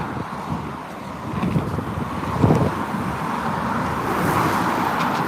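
Traffic rumbles across the Golden Gate Bridge on a gusty day between storms, a continuous roadway drone mixed with buffeting wind noise and a louder passing vehicle midway.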